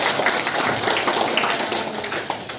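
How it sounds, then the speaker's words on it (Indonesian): Steady, dense applause from a crowd at a school principal handover ceremony at SMP N 3 Pati, loud and continuous through the whole moment, with faint voices mixed in. "Tepuk tangan dong untuk guru saya"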